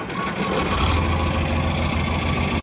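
An old 7000-series farm tractor engine runs steadily at a loud, close idle with a deep low rumble, cutting off abruptly at the end.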